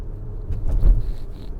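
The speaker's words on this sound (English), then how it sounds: "And this vehicle then takes off." A 2024 Lexus RX450h+ plug-in hybrid SUV pulls away from a stop, a low smooth rumble swelling briefly then easing, heard from inside the cabin with a faint electric whine and no talk.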